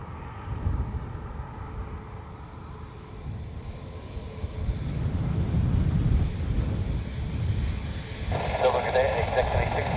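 An Aer Lingus airliner bound for Heathrow takes off from runway 28 right at Dublin Airport, a low engine roar building steadily and staying strong under wind noise.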